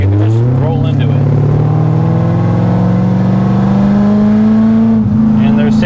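A 2012 Chevrolet Corvette Grand Sport 4LT with a Lingenfelter upgrade accelerates at partial throttle, its engine note rising steadily and loudly through a gear change, with a brief dip near the end.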